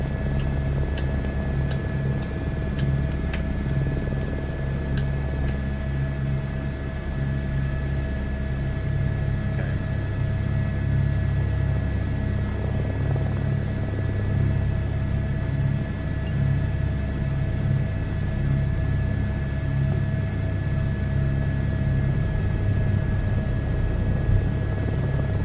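A helicopter in a VR flight simulator game drones steadily with a constant low rotor and engine hum, a continuous even tone with faint clicks early on and no talking.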